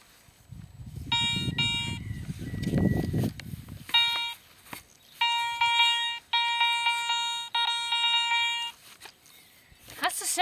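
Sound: metal detector beeping over a target

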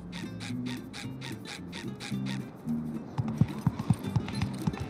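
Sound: horse riding clip-clop in SpongeBob The Cosmic Shake video game

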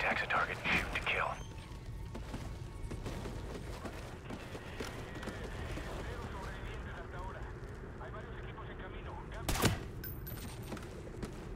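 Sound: gunfire in Call of Duty: Ghosts video game

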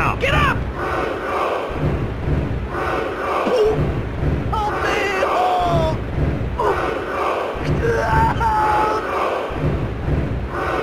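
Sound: crowd cheering in WWF Attitude wrestling video game

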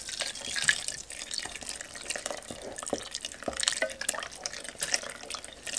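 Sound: pouring boiling water into vegetable broth sauce

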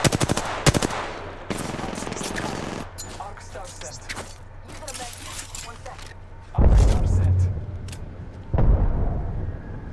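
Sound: gunfire in the video game Apex Legends

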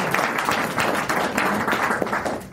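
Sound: audience applause at a conference

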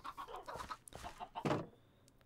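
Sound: chickens clucking in Minecraft video game

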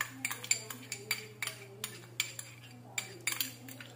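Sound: spoon stirring yeast and sugar into warm water

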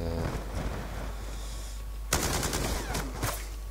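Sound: light machine gun fire in Black Ops 2 video game

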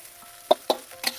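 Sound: stirring fried rice in a pan

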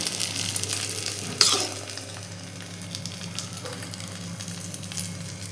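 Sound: bread omelette frying in a pan until crispy

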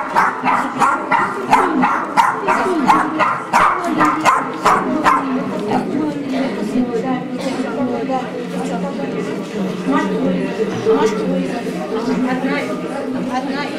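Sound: small dogs barking

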